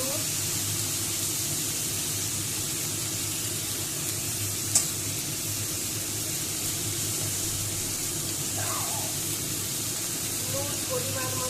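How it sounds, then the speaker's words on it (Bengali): Spices being stirred into a sizzling tempering in a pan for a Bengali sour okra dish, a steady loud frying hiss with a brief clink near the middle and faint scraping later. "এবার ভালো করে মিশিয়ে দিচ্ছি ফোড়নের সঙ্গে"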